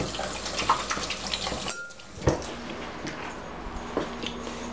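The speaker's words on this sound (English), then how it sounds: "wash my hands again" Hands washed under a running kitchen tap while making cupcakes: a steady close rush of water with some splashing and small knocks, fairly loud throughout.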